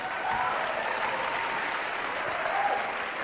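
An audience claps in another round of applause, a soft, even wash of many hands that holds steady with no breaks from start to finish.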